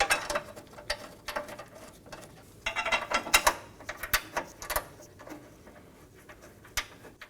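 Two 13mm bolts are hand threaded and snugged on the radiator support bars of a Dodge Durango, giving faint, irregular metallic clicks and ratcheting ticks close by.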